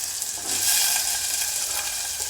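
Small diced potatoes sizzle in hot oil in a pan for an aloo capsicum fry, giving a loud, steady crackling hiss that swells briefly when stirred.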